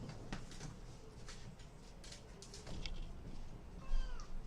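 A pet cat named Bubbles meows repeatedly at close range, a short series of plaintive calls rising over a low, steady room hum, with a sharper, louder meow near the end.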